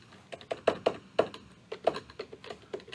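Keystrokes on a computer keyboard while entering Java code, a run of separate clicks and taps in an uneven rhythm, close and fairly clear, with no talking.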